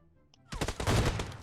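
Gunfire in PUBG Mobile erupts suddenly after a quiet start, a loud dense burst of rapid shots that rings on for about a second.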